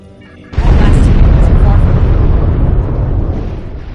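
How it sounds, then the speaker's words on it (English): Loud, sustained roar of heavy gunfire and explosions in the video game Star Trek Online, kicking in abruptly after a brief quieter moment, dense and continuous throughout. "You can have heavy gunfire nearby."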